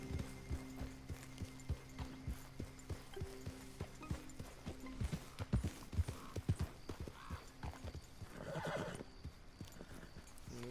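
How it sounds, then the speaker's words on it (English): A horse gallops in Red Dead Redemption 2, with steady clip-clop hoofbeats running through the stretch, a neigh rising near the end, and game music faintly underneath. "Acelerar o cavalo e rodar assim."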